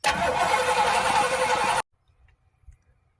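A Studebaker truck engine cranks loudly for just under two seconds, then cuts off abruptly, leaving near silence with a few faint knocks.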